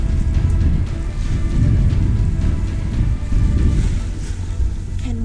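A boat crossing the sea off Danger Point near Dyer Island, South Africa, running on a single engine, gives a steady low rumble that is mixed with wind and the wash of waves from start to finish.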